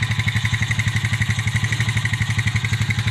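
An old four-wheeler ATV engine idles nearby on a farm, a loud, even, rapid chugging pulse that holds steady throughout with no talk.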